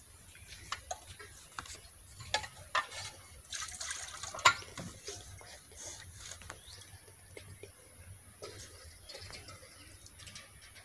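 Water running and trickling in a home kitchen during washing, with scattered ticks and clinks from dishes or a tap over a soft, steady background, heard close but quietly and with no one speaking.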